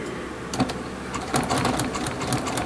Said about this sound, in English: And I might be stitching a little bit fast